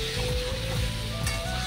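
Soybean chunks frying in a cooked-down spice masala sizzle steadily in the pan, a close hissing crackle broken by a few stirring scrapes.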